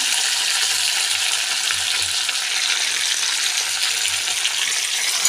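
Curry leaves, onions and green chillies sizzle steadily in hot oil, a close, continuous frying hiss with faint low thumps of stirring, no voices.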